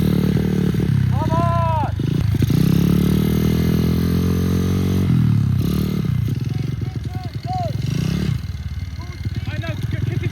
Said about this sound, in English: When you're in gear 2, proper rev it.